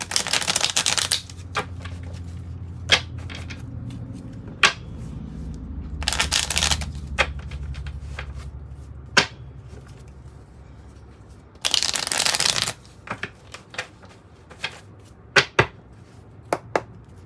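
A deck of tarot cards is shuffled in several quick riffling bursts, with soft taps and card snaps between them in a quiet room.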